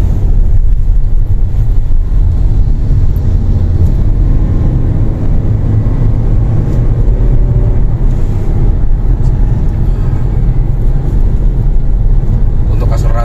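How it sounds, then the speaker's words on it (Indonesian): Steady low hum of a Toyota Innova Zenix 2023 petrol-hybrid MPV engine as it accelerates, heard loud and continuous from inside the car with some road and wind rumble. "Seperti mobil wajar, ada suara dengungan ya di mesinnya, karena memang mobil ini masih menggunakan mesin bensin tapi hybrid"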